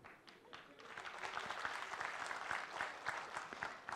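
Scattered applause from a comedy show audience rises in a thin, uneven patter of claps, faint and distant, swelling slightly before tapering off.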